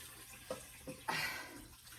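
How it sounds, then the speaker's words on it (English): Faucet water at a sink for hand washing, a couple of soft splashes and then a brief gush of running water, faint and close. "first thing we're going to do is wash our hands, okay?"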